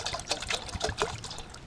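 Sterilized water poured into a container for cooking soup and rice, a soft close trickle and splash running steadily for a moment.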